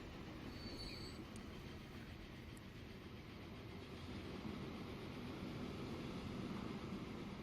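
A freight train loaded with logs rolls along in the Transport Fever video game, giving a faint, continuous rumble of wheels on track with occasional high squeals, steady throughout.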